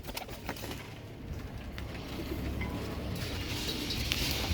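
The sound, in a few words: Kal Duma pigeons cooing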